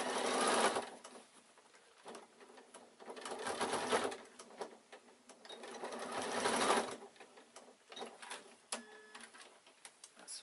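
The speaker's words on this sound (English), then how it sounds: "I'll just sew the handle in." Sewing machine stitching a handle onto a quilted evening bag, quiet rattling runs in several bursts with short pauses between them.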